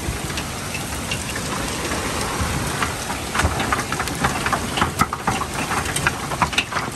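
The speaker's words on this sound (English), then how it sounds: "Getting killed with hail right now." Hail storm pounding an RV at a spring break campground in Gulf Shores, a dense, steady clatter of hard impacts with sharper cracks getting heavier partway through, loud and close with no talking.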